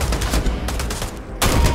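Heavy automatic gunfire erupts in Starfield during a bank heist in Akila City, sustained rapid bursts that briefly break off and then resume, loud and close with no talking.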